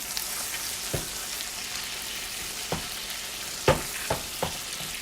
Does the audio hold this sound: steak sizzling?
yes